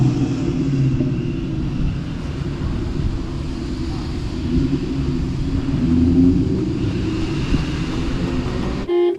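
A Roush Terminator 10th Anniversary Cobra engine rumbles steadily as the car spins around a corner, a loud low droning roar that holds for several seconds before cutting off abruptly.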